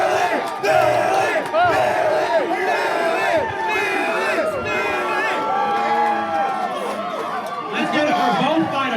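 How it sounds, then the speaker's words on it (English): A packed arena crowd roars and yells after a heavyweight cage fight between John Hall and Billy Swanson, a loud, sustained wall of cheering and shouting voices that surges again near the end. "If you can hear the crowd right now, they're going insane right now."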